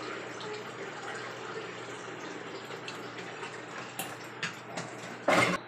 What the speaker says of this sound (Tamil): கொஞ்சம் எண்ணெய் ஊற்றிக்கலாம்.